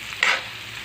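A frying pot of whole spices with turmeric being stirred, one brief scrape and sizzle burst over a low steady hiss.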